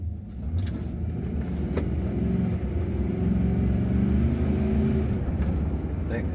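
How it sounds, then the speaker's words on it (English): Heavy road traffic on an Atlanta highway, heard as a steady, loud low rumble of engines and tires that holds without a break. "buttload of traffic here"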